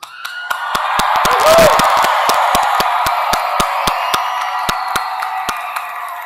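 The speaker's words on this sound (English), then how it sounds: "let's join the graduates in one last celebratory cheer" A large crowd at a college commencement cheers and claps in a big hall, the roar swelling then holding steady, with sharp clicks scattered throughout.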